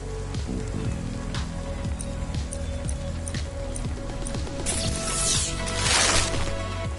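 Steady rain falls in the video game CloudPunk, a dense hiss with scattered drips and small impacts, swelling slightly louder near the end.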